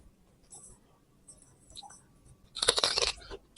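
A sour plum dipped in salt being bitten and chewed up close: quiet faint rustles, then a burst of loud, wet crunching bites near the end.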